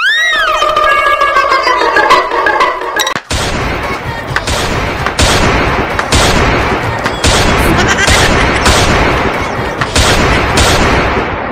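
A toy tikuli cap gun fires during a village Diwali celebration, a string of sharp, loud cracks in quick irregular succession, following a few whistling, rising tones at the start.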